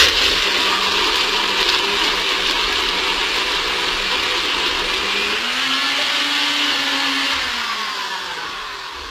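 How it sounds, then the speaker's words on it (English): A blender grinds loudly and steadily through a thick smoothie packed with ice, its motor pitch dropping and straining partway through as the blades bog down. "So you can hear, since I added all that ice, it made it a little bit too thick."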